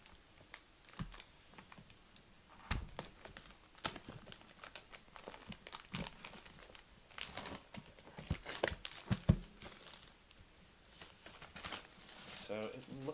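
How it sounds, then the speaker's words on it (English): Plastic packaging on a Magic: The Gathering Kaladesh toolkit box is peeled and torn off close up, giving irregular bursts of crinkling and crackling with brief pauses between them. "I'll let you sit back and relax as I unwrap this thing."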